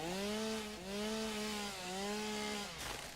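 A chainsaw from the factory-building game Satisfactory drones loudly and close with a buzzing, harmonic engine note, dipping slightly in pitch a few times as it cuts before stopping abruptly near the end.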